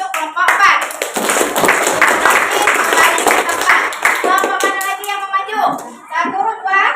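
A class of children applauds a student group in a classroom, giving a dense burst of clapping hands that fades after a few seconds while young voices and an adult speaker talk over and after it.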